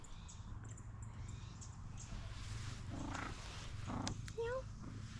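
A close, low rumbling cat purr runs steadily throughout, with a few faint bird chirps in the background.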